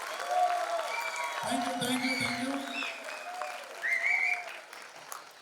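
An audience claps at a Tamil association cultural festival stage event in Muscat, with dense applause throughout while a voice speaks over it.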